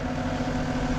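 A Kubota M4D-071 tractor engine idles quietly, a steady low mechanical hum and rumble running evenly without change from start to end.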